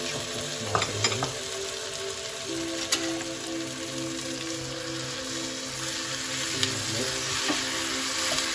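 Tomatoes for Sri Lankan devilled chicken sizzle in a pan with a dense, rain-like hiss, with a few clanks and stirring scrapes early on before it settles into a steady fry under a faint hum and no talk.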